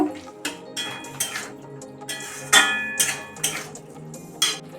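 Fried potato pieces are stirred into chana masala in a pan, producing a series of close clattering utensil strokes against the pan at an uneven pace, with no voice.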